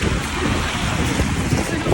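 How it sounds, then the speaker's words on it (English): Strong wind blows outdoors and buffets the microphone with loud, continuous rumbling gusts across the whole stretch, with no clear talking over it. "it's windy as hell, as usual"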